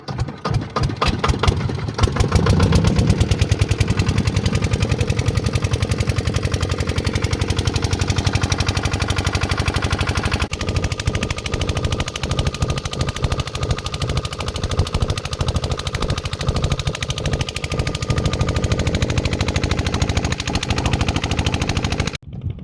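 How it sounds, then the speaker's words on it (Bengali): A motorboat engine on the Brahmaputra river on a fishing trip starts with a burst of rapid, rattling knocks, then settles into a loud, continuous chugging drone that carries on without any talk. "আমাদের নৌকা স্টার্ট হলো দর্শক"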